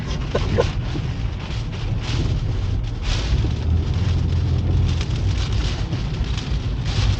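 Heavy rain and gusting wind from Storm Ciaran beside a lighthouse in Guernsey roar as dense, unbroken noise, loud and close, with no voices.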